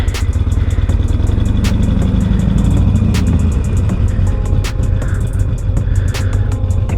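A Harley-Davidson motorcycle engine idles with a loud, steady low rumble and mechanical clatter while the bike is slowly maneuvered through a tight turn, with occasional slight shifts in revs and no one talking.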